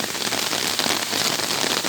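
Heavy rain pours steadily in a dense, hissing roar of drops hitting surfaces, loud and unbroken.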